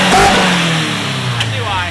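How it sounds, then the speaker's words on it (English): A Mazda RX-7 FC rotary engine with individual throttle bodies revs loud and close, its pitch rising and falling through a sustained, intake-heavy roar, with people talking over it. "There's like a certain RPM where the ITVs just get twice as loud."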